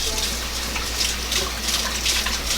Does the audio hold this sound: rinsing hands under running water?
yes